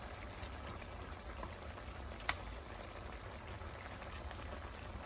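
A big pot of brown stew fish simmers and bubbles, giving a steady, faint, dense hiss of bubbling with one brief sharper pop partway through.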